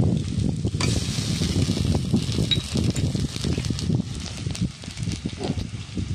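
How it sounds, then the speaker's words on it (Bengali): Ginger-garlic paste sizzles in hot oil in a pan, a steady close frying hiss with crackling pops and a sharper burst near the start, no voices. "এবার আমি আদা রসুন বাটাটাকে দিয়ে দিচ্ছি।"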